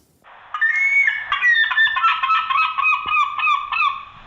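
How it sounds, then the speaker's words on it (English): Loud, close bird calls honk and squawk in a rapid series of harsh, rising cries, like seagulls around a ship's deck. "who thought it was the seagulls"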